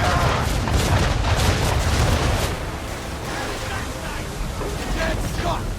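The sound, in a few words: ship cannons firing in the video game Assassin's Creed III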